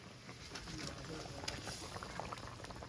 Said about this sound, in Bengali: তরকারি ফুটে গেছে।